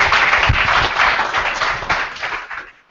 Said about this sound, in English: Please give him a good round of applause